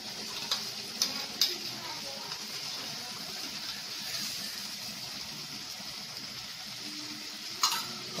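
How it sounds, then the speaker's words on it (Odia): Onions frying in a pan for a mustard-paste fish curry give a soft, steady sizzling hiss throughout, with a few faint utensil clicks near the start and end. "ପିଆଜ ଏବେ ଭାଜି ହେଇଗଲାଣି, ଏବେ ଦେଇଦେବା ଆମେ ସୋରିଷ ବେସରଟାକୁ।"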